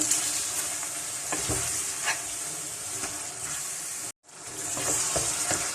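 Beef karahi with meat and masala frying over high heat, a dense continuous sizzle with rhythmic scraping stirs, briefly cut to silence before the sizzle resumes, close and unaccompanied by talk.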